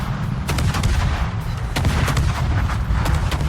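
Warship guns in World of Warships thunder in a steady barrage, with sharp, loud bursts repeating over a constant rumbling battle din.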